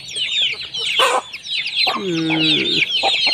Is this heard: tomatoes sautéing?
no